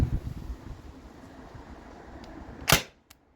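A Kinetics Sabre 68 paintball marker runs on a 12 gram CO2 cartridge and gives off a single sharp, loud shot near the end, after quiet ambient noise, followed by a faint later click.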